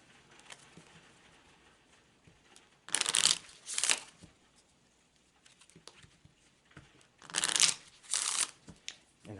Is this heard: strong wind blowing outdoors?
no